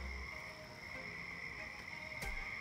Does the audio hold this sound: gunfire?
no